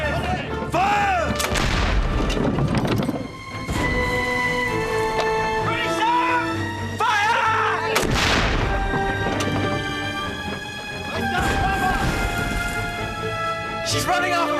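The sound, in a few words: ship's cannons firing a broadside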